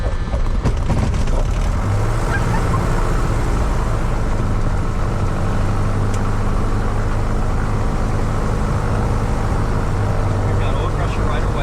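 A Piper Cherokee small plane's engine starts up and settles into a loud, steady, close rumbling drone that fills the cabin, with voices talking over it.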